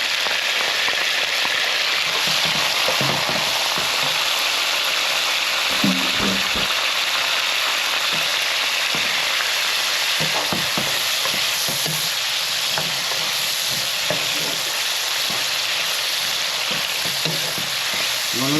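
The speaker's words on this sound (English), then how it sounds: "So I'm going to add all my vegetables that I cut up to my oil." Chopped vegetables fry in hot oil with a dense, even sizzle that runs nonstop throughout, like steady rain, while soft pan knocks and stirring clicks sound now and then underneath.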